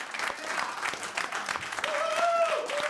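Studio audience applause on a late-night comedy talk show, a steady wash of clapping with a few cheers rising over it, close and loud for about three seconds.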